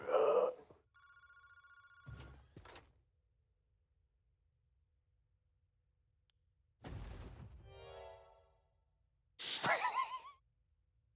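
A telephone rings in the horror video game Paranormasight, coming in short separated bursts of ringing with quiet gaps between them, faint overall.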